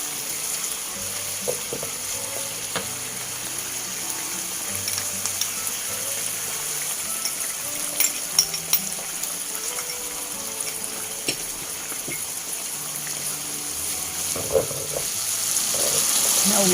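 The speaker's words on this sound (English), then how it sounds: "you stir fry until the minced meat is cooked" Minced meat with curry powder stir-fried in a pan, a steady broadband sizzle running throughout with occasional scraping and clinks of a utensil against the pan.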